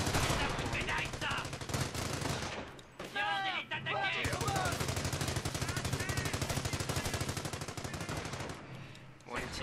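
Heavy machine gun fire in the World War II strategy game Company of Heroes, rapid dense bursts running nearly continuously, loud and close, with speech-like voices cutting in briefly midway.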